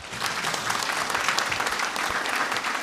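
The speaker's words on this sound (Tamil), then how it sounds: "கைத்தட்டி கடவுளுக்கு நன்றி செலுத்துங்க" A congregation at Eucharistic adoration in St Bernadette church in Paris claps hands together, a dense, steady wash of applause filling the hall without pause.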